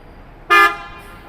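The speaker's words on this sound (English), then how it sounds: "why is this guy honking?" A single short car horn honk blares on a downtown Saint Paul street on a hockey home-opener night, loud and close, over quiet background.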